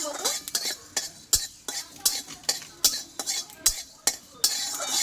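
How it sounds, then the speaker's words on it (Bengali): Panch phoron spices dry-roasting in a dry pan, stirred with a spoon: brisk, repeated scraping strokes and light metallic clinks in a steady rhythm, close and fairly loud, with no talking. "আমি পাঁচ ফোড়নটা একটু ভেজে নেবো আগে শুকনো খোলায়"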